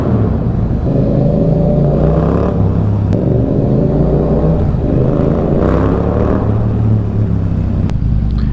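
A 2024 Yamaha MT-07 motorcycle idles and rumbles steadily inside a concrete parking deck, loud and close, with slight throttle blips, and no one talks over it.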